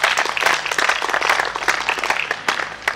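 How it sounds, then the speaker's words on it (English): A crowd at an office inauguration event applauds, a dense, sustained burst of many hands clapping, moderately close and even for the whole stretch, with no speech over it. "that's why they deserve a big round of applause"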